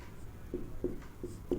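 Pen or chalk writing out a maths solution, a few short scratchy strokes repeating at a steady pace, faint and close, with no talk over it.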